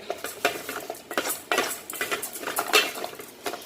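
Utensil scraping and clanking in a pan as pork luau bowl ingredients are stirred to coat, a quick run of close, irregular metallic strokes with no talk.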